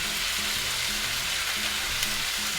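Yakisoba noodles with bean sprouts and sauce stir-fry in a hot pan, giving a steady, even sizzle with faint stirring underneath, close and continuous.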